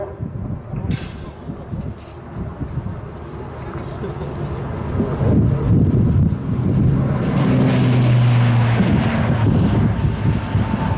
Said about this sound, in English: The Wingwalkers of the ATR-72 starts its takeoff.